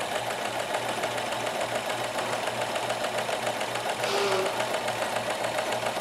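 A Kenmore cam sewing machine stitches a multi-point zigzag with a steady, fast mechanical whirr and rhythmic needle knocking, fairly faint and constant throughout, with a brief louder rustle near the end.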